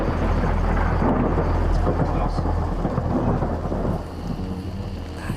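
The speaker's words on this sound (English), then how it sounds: "That is proper lightning." Thunder from a lightning storm rolls as a deep, sustained rumble over steady rain, loud at first and easing slightly toward the end.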